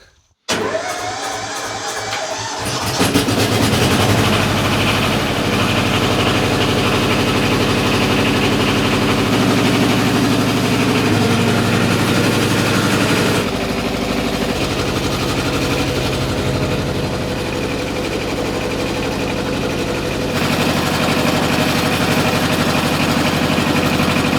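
A Yanmar tractor engine starts with a few rough turns, then settles into a loud, steady idle that runs continuously.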